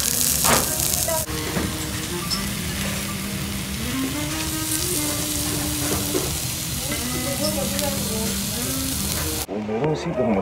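Steady, dense sizzling of Okinawa-style steak on a hot iron plate at a steakhouse, loud and close, with voices chatting underneath and a brief pause near the end.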